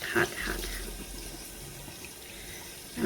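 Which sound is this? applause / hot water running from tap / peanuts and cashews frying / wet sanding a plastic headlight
hot water running from tap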